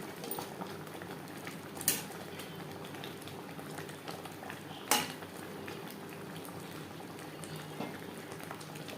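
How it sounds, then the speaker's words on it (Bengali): Mango and jaggery pickle simmers in a pan with a soft, continuous bubbling hiss, broken by two brief metallic clinks of a utensil against the pan. "আরও জাল দিয়ে দিয়ে ঘন করে নেব"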